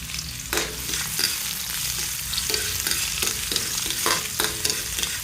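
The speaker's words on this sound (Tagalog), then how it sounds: "Nagisa na ako. Ayan na yung bawang. Sunod ko na ang sibuyas." Garlic and onion sauté in hot oil in a pan, a loud steady sizzle running throughout with regular scraping strokes of a spatula stirring close by.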